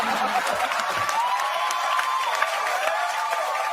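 A live comedy show audience applauds and cheers in a steady, dense wash of clapping with scattered whoops and laughter, sustained throughout at moderate loudness.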